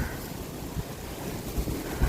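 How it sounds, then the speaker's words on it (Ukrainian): Strong wind roars and buffets the microphone in steady rumbling gusts, with no voices. "Вітер у нас сьогодні, капець."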